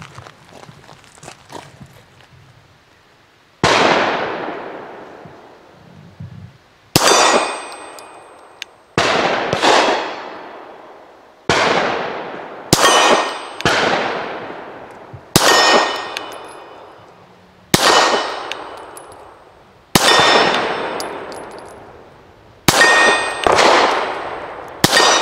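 Shots from a Kahr CW9 pistol ringing off steel targets outdoors, about ten loud sharp reports each followed by a metallic clang and decaying ring, fired in an irregular but steady sequence.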